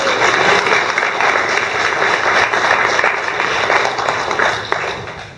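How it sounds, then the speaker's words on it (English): A roomful of attendees at a humanitarian aid conference session applauds with sustained, dense clapping that holds steady for several seconds before tapering off. "Can we have a round of applause for everybody in the room?"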